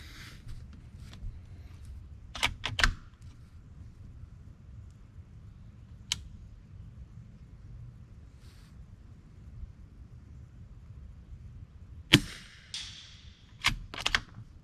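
Suppressed Volquartsen rifle on a Deep Six chassis firing a few quiet shots outdoors, each a short sharp crack in two closely spaced groups, standing alone over a low steady background rumble.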